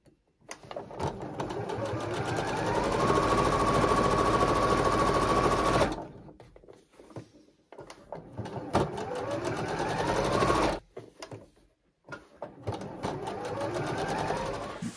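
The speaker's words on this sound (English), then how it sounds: "And then I'm just gonna sew all these together" A sewing machine stitches fabric scraps together into crumb quilt blocks, running in a steady close whir for several seconds, then in shorter bursts separated by brief pauses, with no talking.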